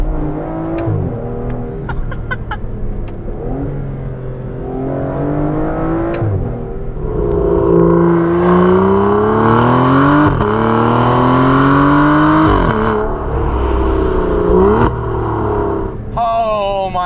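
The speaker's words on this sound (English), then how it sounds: "it produces one of the best V12 exhaust notes of all time" Aston Martin Vanquish S V12 engine revving hard, its exhaust note rising and falling through repeated climbs in pitch, loud and close, with a short spoken exclamation near the end.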